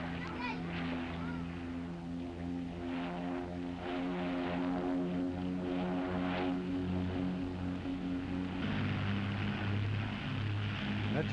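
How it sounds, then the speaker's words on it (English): A propeller airplane flies overhead, its engine a steady, continuous drone that swells somewhat louder near the end, with no other sound standing out. "That's your brother's plane?"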